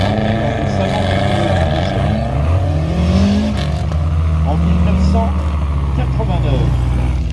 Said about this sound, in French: Une Lancia Delta HF intégrale 16 valves